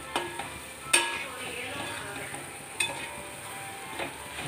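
Chicken curry masala stirred in a pan, a steady sizzle with a few sharp clinks of the spoon against the metal near the start and middle.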